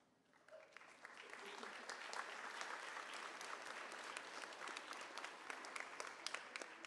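Applause at a fifth grade moving-up ceremony builds from a few claps into sustained clapping from a large audience, steady and fairly distant, continuing to the end.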